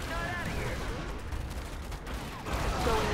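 Sustained gunfire from a Command & Conquer 3 battle, dense overlapping shots rolling continuously under a busy game soundscape, with talking underneath.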